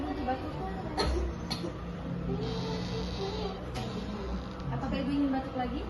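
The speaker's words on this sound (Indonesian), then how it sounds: "Boleh Ibu untuk batuk?" A patient gives a few short, sharp coughs during an effective coughing exercise in a nursing care setting, with quiet breathing and room noise in between.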